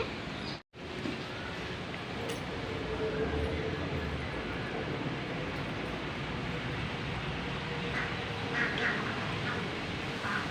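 Ducks quack in a home garden, a few honking calls rising out of steady outdoor background noise over about ten seconds.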